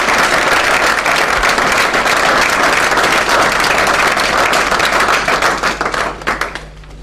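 A church congregation applauding loudly, dense steady clapping from many hands that fills the room and tapers off at the end.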